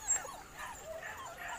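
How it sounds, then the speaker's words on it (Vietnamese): Newly arrived litter of puppies heard as faint, close whimpers and thin yips in short wavering bursts over quiet background noise. "Đây cái đàn cún con mình vừa về được hôm"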